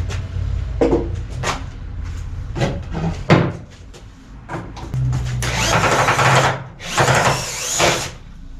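A power tool being used to take apart an old wooden stand, with scattered knocks and clunks of parts, then two loud whirring bursts of the tool running near the end.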